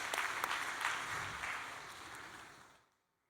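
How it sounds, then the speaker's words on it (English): An audience applauds steadily for a few seconds at moderate volume before the clapping fades away into silence. "Why don't we give them a big round of applause?"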